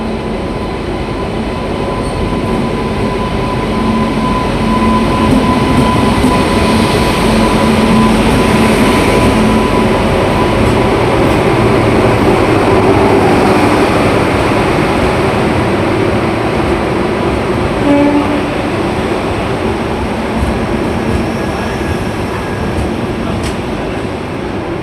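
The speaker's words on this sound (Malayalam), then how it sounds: "കേരളത്തിലൂടെ ആദ്യമായി പരീക്ഷണ ഓട്ടം നടത്തി ഡബിൾ ഡെക്കർ ട്രെയിൻ." A double-decker Uday Express train on its trial run through Kerala rumbles past loudly and close for the whole stretch, a broad, steady roar of wheels and carriages with a faint wheel squeal.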